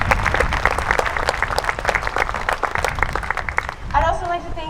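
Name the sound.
audience applause for accompanist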